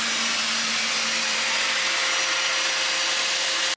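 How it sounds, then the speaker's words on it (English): A vacuum cleaner runs steadily in a band's jam room, a loud continuous whooshing roar with a constant motor whine that holds unchanged for the whole stretch before cutting off abruptly. "That's Ray giving it a vacuum."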